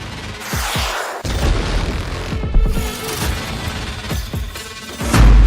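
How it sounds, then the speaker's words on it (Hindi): Loud booms and crashing blasts from missile attacks on Ukraine, with several heavy low impacts in a dense, rumbling stretch that ends on a sustained deep roar. "मिसाइल हमलों से यूक्रेन धुआं-धुआं।"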